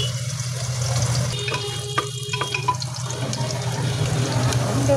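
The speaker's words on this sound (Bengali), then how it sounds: "তাহলে আমি ছোলাটা ঢেলে দিলাম" Boiled chickpeas for a potato and pumpkin curry go into a hot pan, giving a wet, steady sizzle and splashy stirring close by, with a brief clatter of the spoon.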